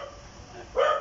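A single dog gives a short, fairly close bark at the very end, after a second of quiet room tone.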